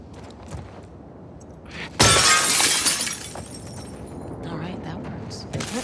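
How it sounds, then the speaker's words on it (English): Glass window shattering loudly in The Last of Us Part 2, a sharp burst of breaking glass with a spray of falling shards that trails off, amid quieter game ambience before and after. "Break glass with bricks and bottles."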